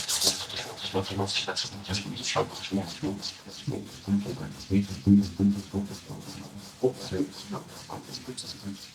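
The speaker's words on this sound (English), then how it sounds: "if you're gonna put the planer with the can and you're gonna go over the foam, you can really nicely peel the foam" A hand planer peels foam from a surfboard blank, giving a continuous rough rasping scrape that rises and falls in strokes, close by, with talking throughout.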